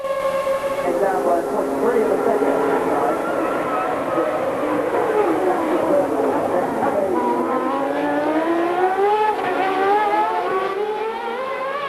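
1990 Formula 1 cars race at the Australian Grand Prix, their high-revving engines wailing in rising and falling harmonic sweeps as they pass close by, loud and continuous, with commentary speech over the top.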